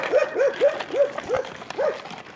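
A Menchi dog lets out a quick run of short, rising whimpers and yips, close and fairly loud, with a brief pause partway through before a few more whines.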